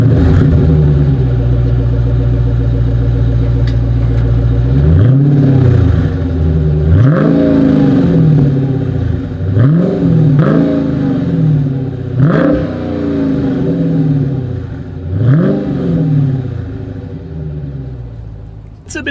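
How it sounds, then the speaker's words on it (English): A 2021 Dodge Challenger Scat Pack sits at idle with a deep, steady rumble, then its exhaust barks through five or six sharp throttle blips spaced a couple of seconds apart, each rising and falling, loud and close. "As always, here is that exhaust clip."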